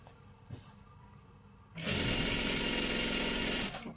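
A sewing machine stitches a salwar, starting abruptly after a quiet moment with a faint tap, then running loud and steady in a close, continuous whir for about two seconds before easing off.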